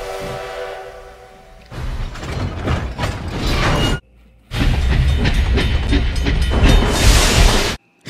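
A train running, with loud rattling mechanical clatter and rumbling that comes in sustained bursts broken by short silent gaps, and no voices.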